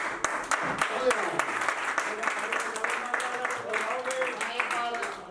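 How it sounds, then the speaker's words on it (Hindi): Audience applause at an office-opening celebration, a sustained patter of many hands that runs under a voice talking throughout. "जोरदार तालियों के साथ"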